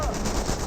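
Automatic weapon fire in the World War II strategy game Company of Heroes, Wehrmacht pioneers trading shots with US engineers, a short dense rattle of gunfire mixed with battle noise.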